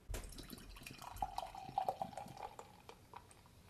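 Lervig Perler for svin beer is poured from a can into a glass, giving a steady trickling, gurgling splash for a few seconds that fades toward the end. No speech is heard over it.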